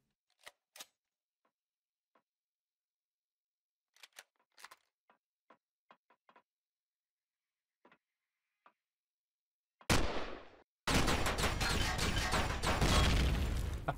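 Cannon shells fire in the space survival game Empyrion Galactic Survival: sparse sharp mechanical clicks first, then a sudden loud burst and a sustained roaring blast that continues to the end.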